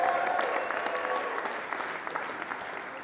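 Applause for the Tahoe Fund fills a room at a live winter speaker series, many hands clapping in a steady crackle that fades slightly toward the end.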